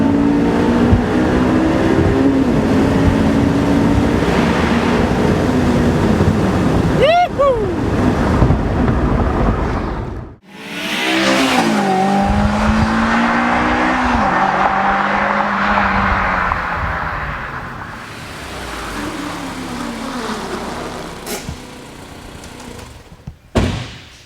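A 2006 Honda S2000 convertible engine revving loudly as it passes through a tunnel, a surging roar that swells, drops away briefly, then climbs again with echoing wind rush, recorded from inside the open car.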